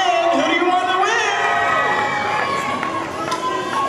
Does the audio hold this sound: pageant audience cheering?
yes